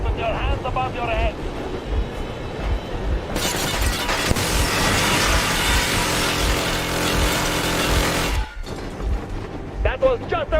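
Warning gunfire in the Metro video game: a sustained, loud burst of heavy automatic fire lasting several seconds, set against a wind-like rumble, with talk before and after.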